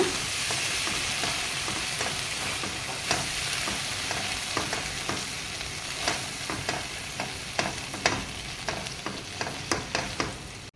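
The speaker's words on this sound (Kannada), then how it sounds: "ಈಗ ಇದನ್ನು ಚೆನ್ನಾಗಿ ಮಿಕ್ಸ್ ಮಾಡಿಕೊಳ್ಳೋಣ" Tomato sauce and soy sauce being stirred in a pan for gobi manchurian, with a steady soft sizzle under a run of spoon scrapes and light clicks that grow more frequent toward the end; no voices.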